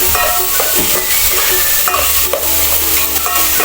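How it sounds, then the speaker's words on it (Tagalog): Ingredients being sautéed in a pan before mung beans are added, a loud continuous sizzle with scraping stir strokes throughout, close up and with no talking. "gisahin muna natin yung ingredients idol"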